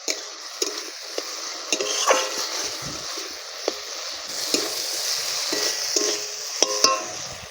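Spice masala for a Bengali egg masala curry, cooked down in oil until the oil separates, sizzles steadily as a spoon scrapes and stirs the pan in repeated sharp strokes.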